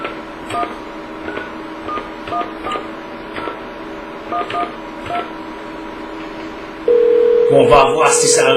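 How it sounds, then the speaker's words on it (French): Touch-tone telephone keys beep in a quick series of short dialing tones over a steady background hum, then a continuous line tone takes over near the end, mixed with louder noise. "je vais peser sur le bouton là maintenant pour faire marcher le téléphone"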